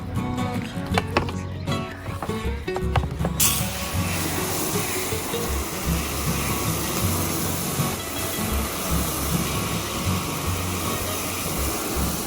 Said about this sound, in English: I'll hose these layers off into my beans